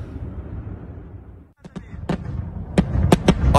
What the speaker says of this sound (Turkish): Şu an itibariyle Kiev semalarında patlama sesleri duyuluyor.